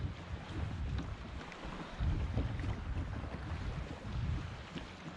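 Brisk wind gusts across a lake shoreline in the Finger Lakes, New York, on a cold day around 40 degrees while fishing, making a continuous rough rumble of microphone buffeting that surges and eases, with no talking.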